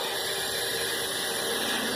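A small portable steam engine venting steam, a loud, steady broadband hiss that fills the whole stretch without pause and without voices.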